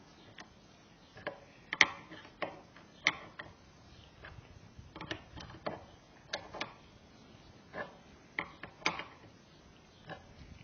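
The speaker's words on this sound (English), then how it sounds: "So just tighten it down. So far it's easy with this big wrench, no problem." Big wrench tightening a Honda Grom motorcycle fork, giving a series of sharp metallic clicks and ticks at an uneven pace, close and fairly quiet, with no talking.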